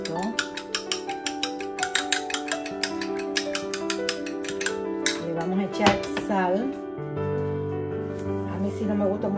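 A whisk or fork rapidly beating an egg in a bowl, a fast, steady train of bright clinks and taps for several seconds that then loosens into scattered ringing knocks, close up with a voice speaking.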